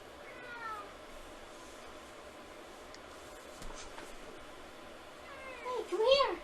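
A pet cat meows twice, a short call near the start and a louder, rising meow at the end, close by, with a person talking softly in between.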